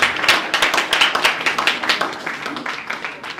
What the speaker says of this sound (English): I think we should give Chiwuike a more resounding round of applause